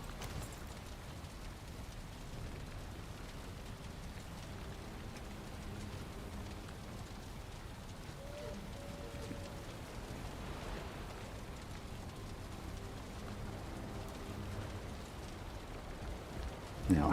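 Steady rainfall in a video game, a continuous broadband wash of drops on surfaces that holds evenly throughout with no talk over it.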